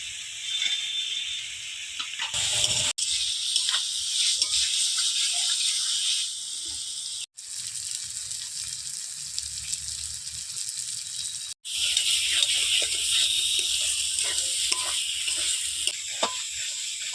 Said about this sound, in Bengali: মশলার সঙ্গে আলু ভালোভাবে কষিয়ে নিয়েছি